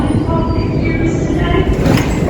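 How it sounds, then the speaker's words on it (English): A London train near Canada Water station rumbles loudly and steadily up close, a dense carriage roar with faint rail clatter and no pauses. "So I'm now going to jump on this train."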